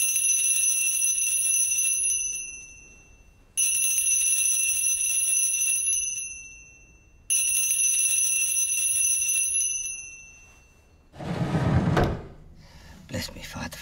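Three long, bright bell tones ring out in turn, each sustained for about three seconds and then decaying, followed by a clattering knock and shuffle near the end.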